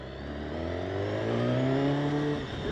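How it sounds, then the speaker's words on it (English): A 2016 BMW S1000RR with an inline-four engine revs up through the gears, its smooth rising engine note swelling loud and close before dipping briefly near the end. "I'm riding the S1000RR."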